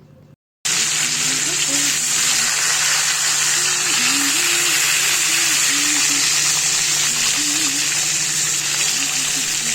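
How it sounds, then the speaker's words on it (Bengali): Fish frying in hot mustard oil, a loud continuous sizzle that starts abruptly after a short silence and holds steady throughout, with a faint voice-like murmur underneath. "এক এক করে মাছগুলো ছেড়ে দেব এবং মাছগুলো ভালো করে ভেজে নেব।"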